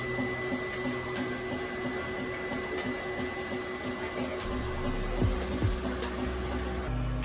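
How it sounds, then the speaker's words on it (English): A newly acquired 3D printer runs steadily, giving a continuous mechanical hum with a faint rhythmic stepping pulse, joined near the end by a couple of louder whirring motor sweeps, with no talk over it. "trying to use this newly acquired 3D printer to print a RCP bridge from my RCP tracks"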